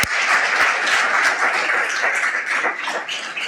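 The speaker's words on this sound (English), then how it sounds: "You should give yourselves a round of applause." Audience at a changemakers summit applauding steadily, a dense wash of many hands clapping at close range that holds throughout without voices.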